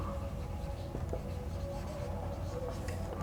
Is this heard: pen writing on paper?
yes